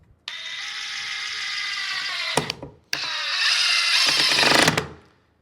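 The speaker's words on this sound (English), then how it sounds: "Not till you get very end of driving that screw do you hear the impacts beginning to start" A DeWalt DCF870 hydraulic impact driver drives a screw in two close, loud runs: a steady whirring motor, with rapid ratcheting impacts building toward the end of each run before it cuts off.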